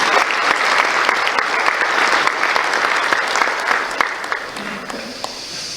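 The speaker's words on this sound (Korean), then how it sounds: "두 분 의원님께 박수 한번 부탁드리겠습니다." An audience at a vocational education results-sharing event in Gyeongju applauds, a full, loud round of clapping that gradually thins and fades toward the end.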